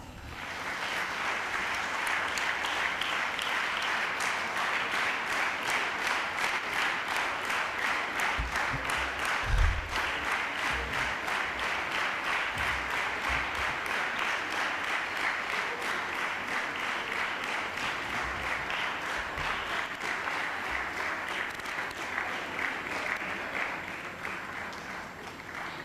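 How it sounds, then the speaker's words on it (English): Big round of applause from the audience at an inter-school literary and cultural meet, a dense, steady wash of clapping that holds at even loudness for the whole stretch and tapers slightly at the very end. "Let us welcome Ms. Tenzin Pelmula with a big round of applause."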